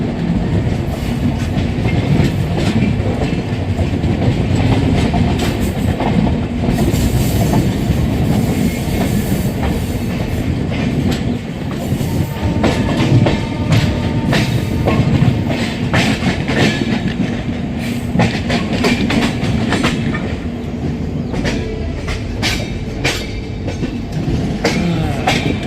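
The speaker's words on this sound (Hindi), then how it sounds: "लंबी चौड़ी ट्रेन हमारी।" Udyan Express 11301 of Indian Railways runs on the Mumbai CSMT to Bengaluru line with a steady, loud rumble of wheels on rails. A rhythmic clickety-clack and faint wheel squeal continue throughout, with no talk.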